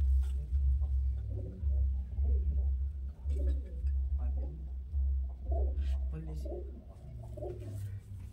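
Male pigeons of a Rampuri breed kept by a fancier coo repeatedly in low, rolling phrases close by, with a voice speaking over and between the coos.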